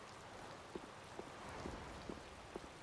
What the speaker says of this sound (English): I believe the ongoing rain and wind are being caused by a Blastia.